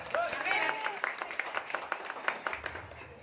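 Crowd clapping at a 2024 regional candidate declaration event in Pemalang, a scattered, moderate burst of applause with voices and chatter mixed through it, tapering toward the end.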